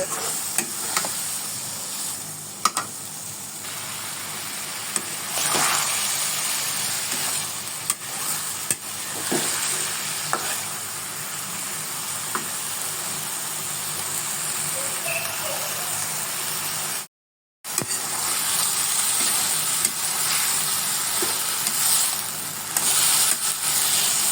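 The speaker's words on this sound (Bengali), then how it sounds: "এবার সবগুলো ভালোভাবে একটু কষিয়ে নিব" Potatoes and eggplant sautéing with spices in a pan for a pabda fish curry, a steady sizzle with scraping stirs, briefly cut to silence partway through before resuming.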